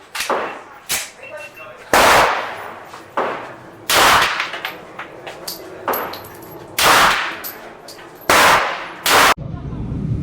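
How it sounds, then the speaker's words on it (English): A double-action Smith & Wesson Model 25 revolver fires Lee 452 252 cast semi-wadcutter bullets outdoors in a string of loud, sharp shots at irregular intervals, each followed by a brief ringing decay. Quieter handling noises fill the gaps. "Let's go ahead and shoot a 3rd group to test in the Model 25 Smith & Wesson."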